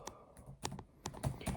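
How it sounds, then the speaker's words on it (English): Quick, light clicking of a computer keyboard typed with one hand, a short irregular burst of about a dozen keystrokes close to the listener in a quiet room. "Keep pressing Z because I'm typing with one hand."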